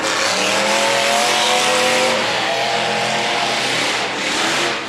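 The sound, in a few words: race cars on the last lap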